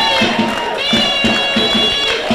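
A home crowd at an FC Ajka football match claps and cheers after a near goal, a dense rhythmic burst of applause with crowd noise throughout.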